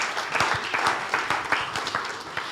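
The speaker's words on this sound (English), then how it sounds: "A round of applause to..." Audience at a health-tech investor summit applauding after a pitch session, a brisk round of many hands with individual claps standing out near the front, fairly loud and continuous.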